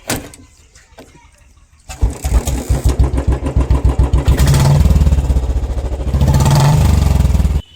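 After some quiet clatter, a motorcycle engine fitted with a new silencer cranks and fires up, then settles into a loud, throbbing idle with a couple of throttle blips, up close.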